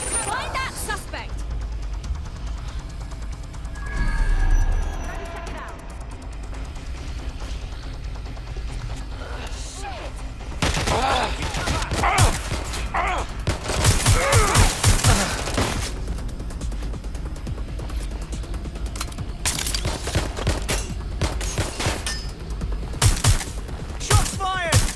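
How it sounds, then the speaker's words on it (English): Repeated gunfire erupts in a Watch Dogs Legion firefight, with loud bursts and volleys of shots clustering in the second half among thuds, vehicle noise and game ambience, while voices talk over parts of it. "Shots fired!"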